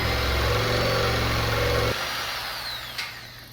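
Sawzall reciprocating saw cuts through an original 1915 roof beam, a loud buzzing motor stopping abruptly, then a fainter whine fading with a short knock near the end.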